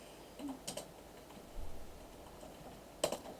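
Quiet typing on a computer keyboard, a few scattered key clicks and a short burst of taps with pauses between them, faint and close.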